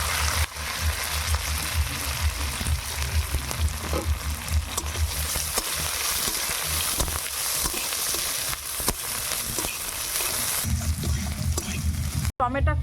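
Chopped onion sizzles in hot oil with mustard seeds and curry leaves, a dense continuous hiss close by, broken by occasional stirring clicks and scrapes.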